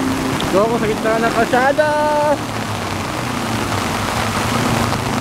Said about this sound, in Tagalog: Nagbablog, umuulan.